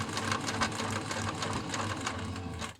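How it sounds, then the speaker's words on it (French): A sewing machine topstitches fabric in a steady, continuous run of rapid needle strokes, close and fairly loud, before it stops abruptly at the end, with no voices. "Terminez donc le tour de votre surpiqûre en revenant au niveau du point de départ."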